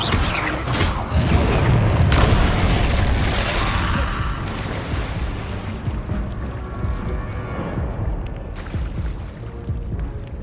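Explosions and magical blasts from a Confringo spell in a video game: a sharp burst near the start followed by a heavy booming rumble that decays, with crackling and creaking debris and another sharp hit later.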